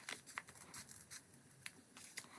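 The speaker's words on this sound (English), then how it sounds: "I'm going to attempt to straighten those out with scissors" Scissors snip along the edges of sketchbook pages to straighten them, a quick series of soft, close cuts spaced irregularly, faint and alone.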